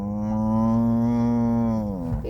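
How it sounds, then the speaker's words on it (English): A cow lets out one long, deep, steady moo close by, lasting about two seconds before dropping off at the end. "We're talking to the cows."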